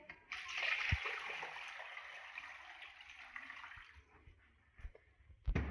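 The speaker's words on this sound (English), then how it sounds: "So now what we are going to do is we are going to add our water." Water poured into a pot for salmon bone broth, about ten cups, a continuous hissing splash that swells early then tapers off, ending in a few soft knocks, close and fairly quiet.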